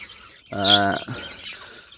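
A single budgerigar gives one short, bright chirp close by in a breeding cage, with quiet rustling before and after.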